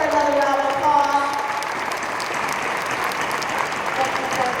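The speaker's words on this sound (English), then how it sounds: "Let's give her another round of applause." Audience at an urban forum applauding, a dense steady clapping throughout at moderate loudness, with a brief tonal voice or feedback sound at the start.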